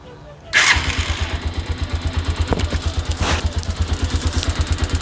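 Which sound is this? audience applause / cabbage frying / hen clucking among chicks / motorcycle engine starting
motorcycle engine starting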